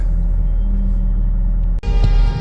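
Ford F-350 diesel 4WD XL regular cab contractor utility truck pulling away on a test drive, a loud low rumble that holds steady and then lurches with a sharp clunk and a surge of engine noise.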